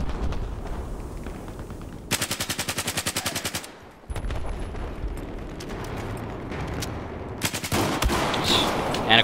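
Rapid bursts of gunfire from a semi-automatic shotgun in a Call of Duty match, loud and dense, with a tight rhythmic volley in the middle and continuous shooting around it, no talking.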